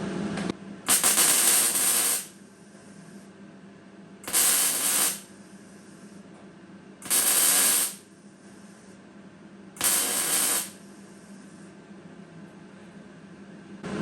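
Welding thin sheet steel in short tack bursts to fill a gap: four separate loud hissing, crackling bursts of about a second each, with quiet pauses between them.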